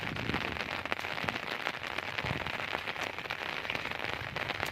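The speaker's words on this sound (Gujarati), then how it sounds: "એકદમ વરસાદ આવી ગયો છે" Heavy rain pours over flooded farm fields in Bhatia, making a dense, continuous hiss with scattered crackling drops and no pauses.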